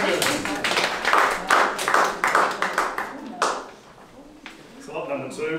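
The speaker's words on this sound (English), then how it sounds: "Round of applause for the first one." Audience clapping at an art exhibition auction day after a lot is sold, a burst of hand claps that is loud at first, then thins and tapers off, with a voice briefly speaking over the tail.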